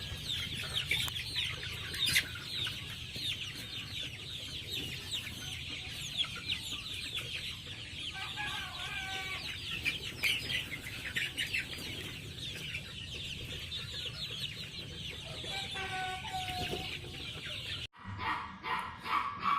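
Well-fed chickens clucking in a pen, a steady low chorus of soft clucks and murmurs throughout, with a dog barking faintly now and then.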